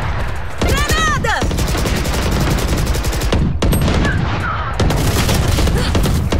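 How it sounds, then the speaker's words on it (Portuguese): Rapid gunfire and explosive bursts from the video game Valorant, a dense, loud stream of shots that continues through most of the stretch with only brief gaps, with players talking over it. "Granada!"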